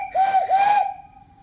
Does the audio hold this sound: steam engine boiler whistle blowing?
yes